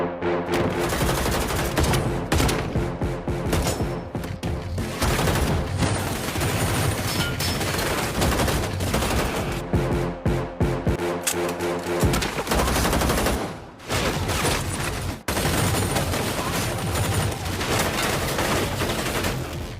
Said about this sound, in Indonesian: Hingga akhirnya aksi tembak-tembakan pun terjadi dari jarak yang sangat dekat.